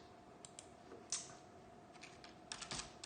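Quiet computer keyboard typing, a few scattered soft key clicks with a short burst near the end, close and faint with no talking.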